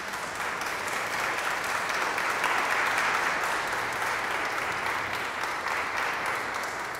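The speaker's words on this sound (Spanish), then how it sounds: "Un fuerte aplauso a Ana Karen." A congregation applauds Ana Karen at her quinceañera, a dense, steady round of clapping that holds evenly and fairly loud for several seconds.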